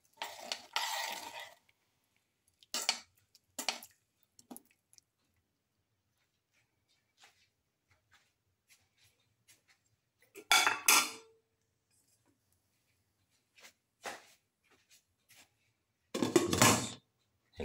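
A spoon stirs fish brindleberry stew made with basa fish pieces in a metal pot, giving several short bursts of clinking and scraping separated by long quiet gaps.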